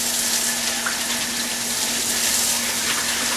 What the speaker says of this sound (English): First thing you need to do is wash your okra.